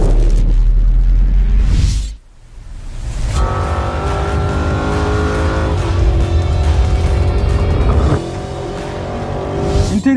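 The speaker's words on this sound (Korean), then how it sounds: "티타늄 배기구가 주는 이 소리도 정말 아름다워요." A Porsche Cayenne Turbo GT with a titanium exhaust revs hard and loud up close. A brief dip and lift-off leads into a sustained, rising turbocharged engine drone with clear gear-change steps and no talking.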